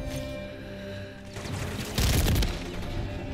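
Fennec submachine gun fitted with a Spiral V 3.5 flash hider firing in a video game, a sustained burst that grows louder and denser partway through over a steady background.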